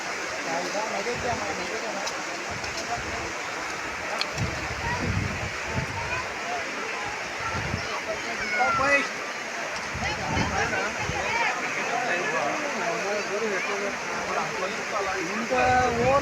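A swollen village stream pours across a road, making a continuous broad rushing roar. Voices talk over it at times, and the level stays steady throughout.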